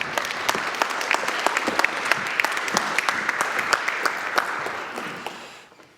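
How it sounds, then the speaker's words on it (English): A conference hall audience claps steadily for a Rear Admiral coming to the podium, crisp distinct hand claps at moderate level that thin out and fade toward the end. "Give them a big applause."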